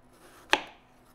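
A single sharp knife stroke slicing thin pieces for a tart, one crisp close chop against a board with a quick decay in an otherwise quiet room.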